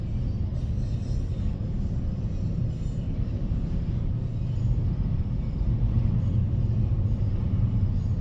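CSX freight locomotives 3154 and 5120 haul a train through Fostoria, Ohio, in a continuous, heavy low rumble that holds steady throughout.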